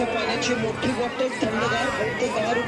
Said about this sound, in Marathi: संपूर्ण चंद्रभागा नदी हे भक्तांनी भरलेली आहे खूप मोठी गर्दी आहे